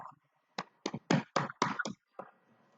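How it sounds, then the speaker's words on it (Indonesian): A small classroom audience at a peer-teaching session claps in a brief run of about seven sharp, separate hand claps, fairly quiet and close, with no talking. "Tepuk tangan dulu buat Kak Ajijah."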